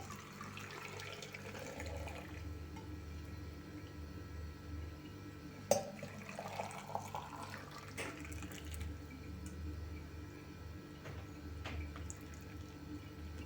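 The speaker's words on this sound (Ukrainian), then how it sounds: "Заливаю кип'ятком помідори." Boiling water poured from a pot into 1.5-litre glass jars packed with tomatoes for pickling, a soft continuous watery pour with a few clinks, faint and close over a low background hum, no talk.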